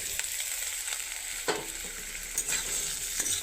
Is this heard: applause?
no